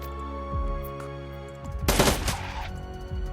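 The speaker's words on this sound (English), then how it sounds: "Burst fire." A burst of automatic gunfire from the video game Shadowrun Dragonfall rattles out as one dense, rapid volley of shots midway through, over steady background game music.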